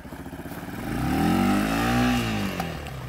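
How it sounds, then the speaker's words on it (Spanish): A motorcycle engine revs up and holds a steady, loud drone close by while a girl is learning to ride, then eases slightly toward the end. "Acelera, no mucho, soltando ahí, soltándolo."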